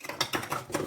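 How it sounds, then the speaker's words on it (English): A plastic washing machine filter being screwed back into its housing, giving a short run of close, dry ratcheting clicks and scraping turns, with no talk. "you just screw the filter back in"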